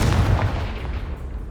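Confringo fire spell going off in Hogwarts Legacy: a loud, deep booming blast that hits at once and then rumbles and decays over about a second and a half, with no voices.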